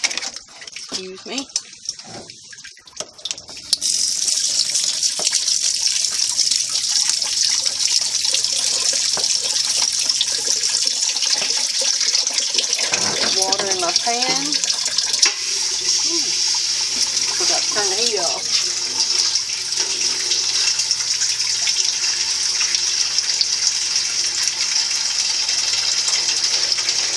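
Tap water runs into a kitchen sink for rinsing foraged pokeweed greens, a steady loud hiss and splash that continues throughout, with brief clatter and shifting tones as the stream is interrupted by the leaves.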